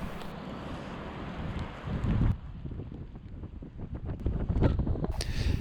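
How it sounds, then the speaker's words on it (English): Wind buffets the microphone on a pebbly river beach during a storm, a steady rough roar broken by gusty thumps, with rain likely blended into the wash of noise and no talking. "It's very windy, it's raining"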